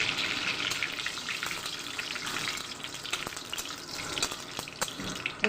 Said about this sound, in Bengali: তেলটা গরম হয়ে গেলে কিন্তু আমি ফোড়নগুলো দিয়ে দেবো।